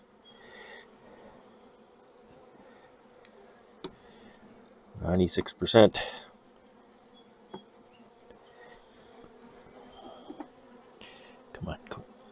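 Honey bees buzz steadily around queenless hive nucs during a July queen introduction, a low continuous drone with a few louder close passes near the middle, while a person speaks briefly.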